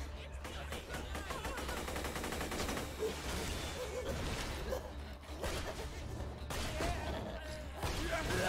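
Gunfire in Borderlands 2, rapid bursts of automatic shots rattling in quick succession with thuds and whooshes mixed in, loud and continuous, with people talking over the shooting.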